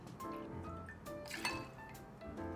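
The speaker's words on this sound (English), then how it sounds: "I'm going to add just a few drops of water." A few drops of water fall onto hard sugar in a glass for muddling an Old Fashioned cocktail, making soft, close drips and light liquid clinks.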